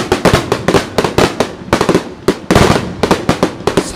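Fireworks bursting over a river at the Tottori city summer fireworks festival, launched from three points on the far bank; a rapid, dense barrage of loud booms and crackles follows one after another with no pauses.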